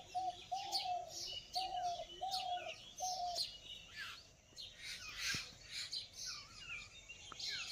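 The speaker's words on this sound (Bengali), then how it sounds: "ও ঘুঘু এসেছে আমাদের মাঝে" Repeated soft dove coos in a natural outdoor setting, a short run of low hoots repeating in a steady pattern early on, set among busy chirping of other birds and insects in the background.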